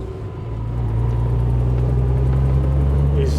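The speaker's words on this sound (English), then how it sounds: "show you what it's like cruising in this car" 1930s saloon car cruising on a bumpy road, heard from inside the cabin: a steady low engine drone and road rumble that swells slightly at the start, then holds evenly throughout.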